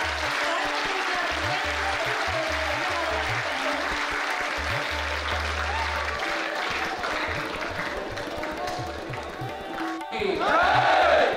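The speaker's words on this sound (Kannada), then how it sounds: "ತಾವೆಲ್ಲರೂ ಕೂಡ ಮತ್ತೊಮ್ಮೆ ಜೋರಾಗಿ ಚಪ್ಪಾಳೆ ತಟ್ಟುವುದರ ಮೂಲಕ" A crowd at an Army Agniveer selection student function applauds loudly and steadily, a dense wash of clapping that holds for about ten seconds before a burst of cheering and shouting near the end.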